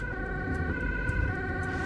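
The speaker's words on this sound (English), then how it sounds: "We leave the hospital grounds and the sirens and lights are switched on." A Dutch ambulance siren wails steadily and loudly over low engine and road rumble as the vehicle drives through Amsterdam traffic.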